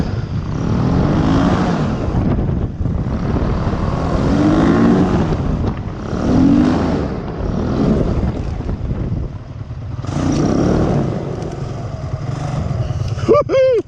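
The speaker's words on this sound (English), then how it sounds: "That was like the most exciting landing I've ever had on this trike." An ultralight trike aircraft engine drones steadily and loudly through a bouncy landing, its pitch wavering with the throttle and shaking from the bumps.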